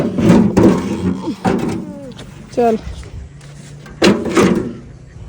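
A stiff door is pushed open and shut, giving several loud knocking thumps and scrapes, close by, mixed in with people talking.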